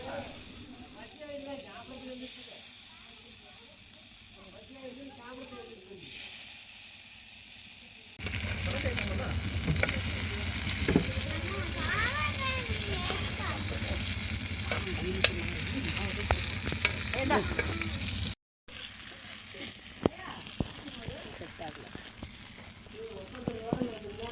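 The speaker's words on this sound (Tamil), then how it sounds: "தோசைக்கல்லை வச்சு லைட்டாக எண்ணெய் போட்டு ஒவ்வொரு பீஸாக அதில் எடுத்து வச்சு லைட்டாக வேக விட்டு திருப்பி போட்டுக்கோங்க" Fish pieces sizzle in oil on a dosa griddle, a steady loud frying hiss that jumps up sharply partway through as more pieces go down, with spatter crackles; quieter kitchen sounds and a voice earlier.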